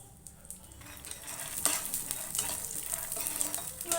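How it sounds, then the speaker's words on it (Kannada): Garlic frying in oil in a pan while making mandakki masala, a continuous close sizzle with scraping stirs and a few sharper crackles. "ಎಣ್ಣೆ ಸೇರಿಸಿದ ಎಣ್ಣೆನಲ್ಲೇ ಒಂಚೂರು ಫ್ರೈ ಮಾಡ್ಕೊಡೋಣ ಗರಿ ಗರಿ ಆಗೋಂಗೆ"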